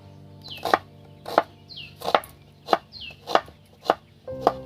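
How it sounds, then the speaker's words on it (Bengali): Onions sliced with a knife on a board, seven crisp evenly spaced chops ringing out close and clear with quiet pauses between. "বন্ধুরা এবার পেঁয়াজগুলো আমি কেটে নেবো।"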